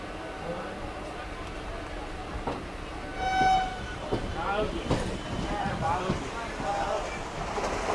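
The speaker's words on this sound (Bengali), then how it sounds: "এই যে আমরা পাঁশকুড়া জাংশন থেকে বেরিয়ে যাচ্ছি, আমাদের ট্রেনের আগে আগেই বেরিয়ে গেল হাওড়া লোকাল" A local train pulls out of Panskura Junction with a steady rumble of wheels and carriages, and a short horn blast sounds partway through. A voice talks over it.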